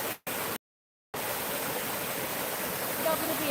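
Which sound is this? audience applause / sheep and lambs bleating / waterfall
waterfall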